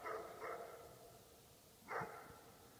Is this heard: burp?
no